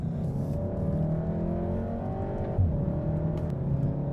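A 2015 Volkswagen Golf R climbs a hill in Bavaria, its engine droning steadily from inside the cabin with a slowly rising pitch under load, a brief bump midway, and no talk.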